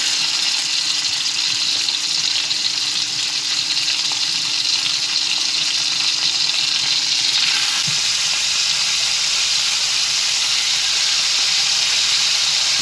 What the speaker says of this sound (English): Gonna let this skillet get up to high temperature, and then we're gonna sear this on each side.